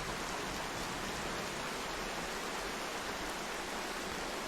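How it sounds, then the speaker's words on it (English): Steady, dense rain hiss from the relaxing puzzle platformer NightSky, a continuous broadband wash with no breaks and no voices, even and moderately quiet throughout. "And we have the rain sounds too"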